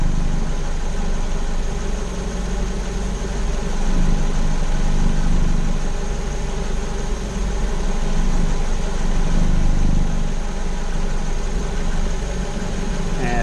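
A car engine idles steadily during a head gasket combustion-gas test, a continuous low rumble with slight swells in intensity, close and even throughout with no talk.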